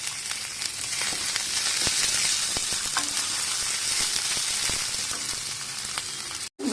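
Ginger, garlic, green chili and onions fry and get stirred in a pan for Gobi Manchurian, a steady close sizzle with scattered clicks and scrapes throughout.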